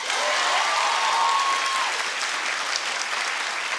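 Studio audience applause on a talk show, a loud, dense, continuous burst of many hands clapping that holds steady to the end.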